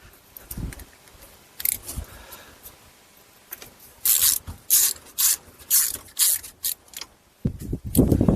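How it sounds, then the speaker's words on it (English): A ratchet tightens bolts on a GM 3800 engine, with about eight short, evenly spaced bursts of clicking in a steady rhythm, preceded by scattered quieter tool clinks and handling noises. "then we'll tighten up both of those bolts again."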